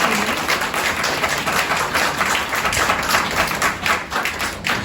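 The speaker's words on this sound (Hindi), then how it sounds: "तो एक बार जोरदार तालियां बजाएंगे शक्तियों के लिए" An audience at a Brahma Kumaris Navratri gathering applauds, a dense, steady wash of many hands clapping at close range that holds evenly for several seconds with no speech.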